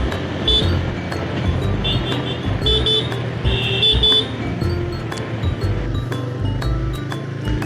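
A vehicle on the road between Alipurduar and Hasimara overtakes a dumper truck: loud continuous engine and road rumble with wind noise, broken by several short high horn-like toots.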